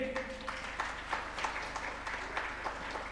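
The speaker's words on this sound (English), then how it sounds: "Let's clap again." Audience applause at the close of a public event on Kenya's innovation master plan, a steady, fairly faint wash of many hands clapping with a low background hum throughout.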